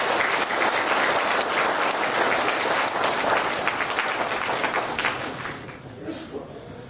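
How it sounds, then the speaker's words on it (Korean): Sustained audience applause welcoming a seminar host to the stage, dense and even from a crowded hall, steady for several seconds before it starts to taper at the end. "많은 박수로 맞이해 주시기 바랍니다."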